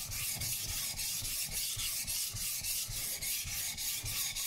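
A Global kitchen knife is drawn across a sharpening stone at a steady angle, giving a continuous rhythmic rasping scrape with regular strokes roughly every half second, close and fairly loud, with no voices.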